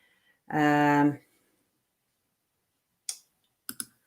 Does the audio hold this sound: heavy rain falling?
no